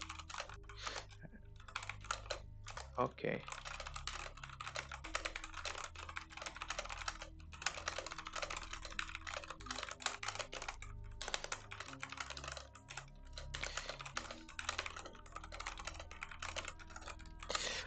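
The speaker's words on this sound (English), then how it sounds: "we'll do typing." Computer keyboard typing runs nearly continuously, close and fairly quiet, with dense clattering keystrokes and brief pauses, and one short spoken word partway through.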